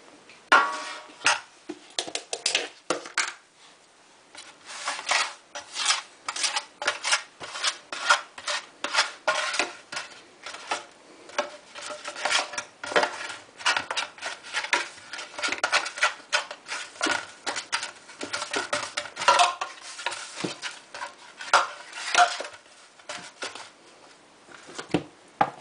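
Handling and greasing an 8-inch metal baking pan for homemade chocolate fudge: quick, irregular rubbing and scraping strokes in bursts, close and fairly soft, with no talk.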